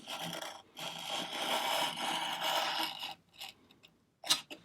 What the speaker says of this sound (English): the way we do that with a marking knife, because I want this to be really accurate, 15 mil line